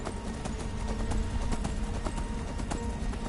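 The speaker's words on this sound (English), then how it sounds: "Oh, it's summoned Daedric horse." A summoned Daedric horse in Skyrim clip-clops along in a steady, rhythmic run of hoofbeats over a low background bed.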